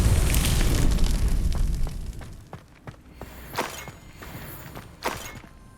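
Confringo fire spell in Hogwarts Legacy, a loud roaring fiery blast that fades over a couple of seconds, followed by several sharp separate cracks and pops.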